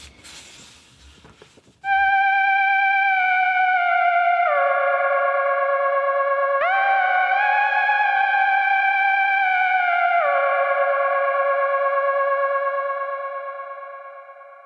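Theremin-style lead from the Spellbound film score, recreated on a Studiologic Sledge synthesizer. A loud, wavering tone starts after a brief noisy lead-in, glides between held pitches in a slow eerie melody, then fades at the end, with no voices.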